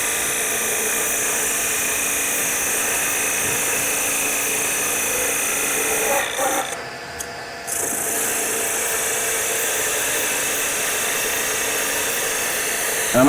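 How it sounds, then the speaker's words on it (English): A 1/8 parting tool cuts into spinning maple on a wood lathe, giving a steady close broadband hiss and hum that stops briefly midway before resuming unchanged to the end. "So once we've done that, we go in with a parting tool"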